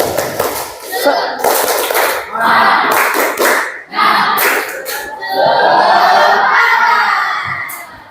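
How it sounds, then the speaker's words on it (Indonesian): A classroom of children performs a rhythmic clapping chant, with bursts of group claps alternating with loud shouted chanting voices, close and energetic, pausing briefly between phrases. "Selanjutnya kita tepuk semangat, biar semangat ya. Tepuk semangat."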